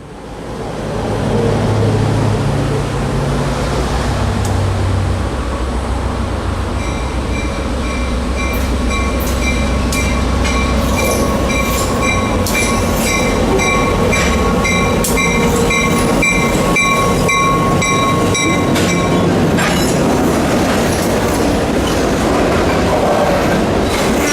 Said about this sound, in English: Soldiers Creek is arguably my favorite place to watch trains in Central Florida